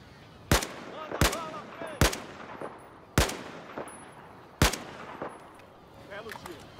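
Gunfire in the Battlefield video game: five sharp, loud shots spaced about a second apart, each with a short echoing tail, plus faint scattered battle noise in between.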